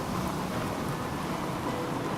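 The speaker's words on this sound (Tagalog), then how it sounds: "Halika na, umuulan na." Steady rain falls in a continuous, even hiss with a low rumble underneath, moderately loud and unbroken through the short stretch, with no voices.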